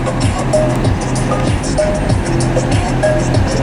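Steady street traffic in a busy town near Manama, Bahrain, with vehicles rumbling past continuously alongside shops, a constant broadband roar with low engine drone and no talking.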